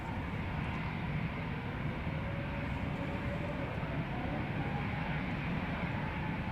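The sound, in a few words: EasyJet A320 airliner departing Amsterdam Schiphol Airport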